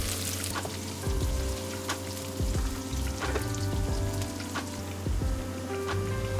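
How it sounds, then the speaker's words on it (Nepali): Chopped onions sizzle steadily in hot oil while a Bhutanese chicken curry is being made, with a constant crackle and occasional pops and clinks of utensils. "अब यो प्याज लगाएर फ्राई गर्दैछु।"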